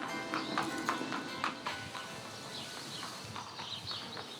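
Trêve, a Normandy-bred thoroughbred racehorse mare, is led in hand at a walk to warm up, her hooves clip-clopping in a steady, soft rhythm at a distance, faint against ambient stable noise.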